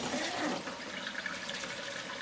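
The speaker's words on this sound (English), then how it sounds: "I like to rinse the beans off just because, as you see on the label, there's salt added and some water." Canned beans rinsed under a running kitchen tap, a steady rushing splash of water that stays loud and even throughout, with no talking.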